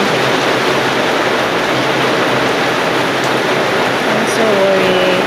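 Heavy rain pouring down in Japan, a dense, loud, continuous hiss of rainfall on surfaces, with a brief voice near the end.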